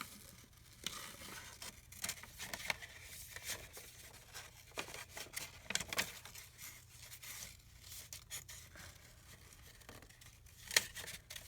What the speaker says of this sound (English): I'm just gonna fussy cut around this.